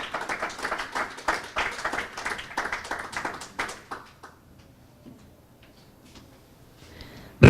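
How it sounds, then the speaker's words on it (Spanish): A church congregation gives an offering of applause to the Lord during a Spanish teaching, rhythmic unison claps in a steady beat for about four seconds, then fading to scattered quiet taps and near silence. "dele una ofrenda de palmas al Señor"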